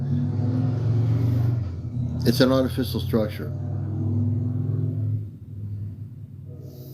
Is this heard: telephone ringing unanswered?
no